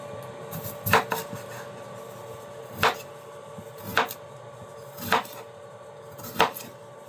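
A knife chopping unpeeled food into cubes on a board: about six sharp, close strikes at irregular intervals, with quiet pauses between them and no talking.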